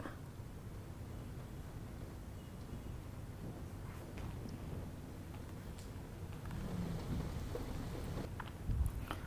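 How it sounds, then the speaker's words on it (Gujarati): Steady, dense monsoon rainfall in Thane, Mumbai hisses throughout, growing slightly louder toward the end, with a low rumble underneath and no voices. "જ્યાં ધોધમાર વરસાદ મુશ્કેલી લઈને આવ્યો છે"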